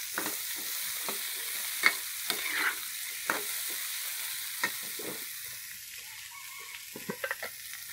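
Soybeans stir-fried with garlic in a pan, an even sizzle under a series of light scraping and tapping strokes of a spatula, louder early and thinning toward the end, no speech.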